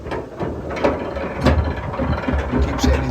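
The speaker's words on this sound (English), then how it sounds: "he's again going to wind the paddle down as he's lifted off the ratchet" A canal lock paddle is wound down with a windlass beside a narrowboat, giving close, loud, irregular mechanical ratchet clicks and clanks over a low engine rumble for about three seconds.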